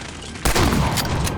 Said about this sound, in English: I can shoot more Germans with a shotgun.